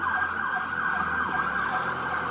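A wailing siren holds a steady high pitch with a slight warble, loud and close, playing alone as a sound effect.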